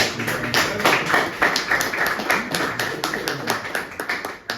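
Applause at a post-match football press conference after Karpaty beat Oleksandriya 2:1, a steady run of clapping from a small group in a room, fairly loud and without talk.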